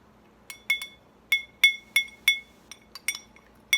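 Utensil clinking against a bowl while stirring an orange clove foot bomb mixture, a quick irregular series of bright taps and scrapes, close and clear with no talking.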